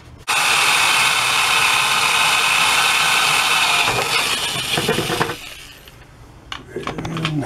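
A loud power drill with a 1/8 inch bit whines steadily for several seconds drilling into metal, then stops, followed by clanks and handling noises.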